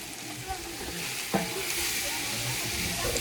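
Tomatoes dropped into a pan of softened onions, hissing in a steady close sizzle with a sharp burst as they land and stirring scrapes, cooking for a chicken liver curry in an African village.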